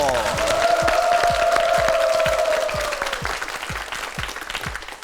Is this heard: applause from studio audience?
yes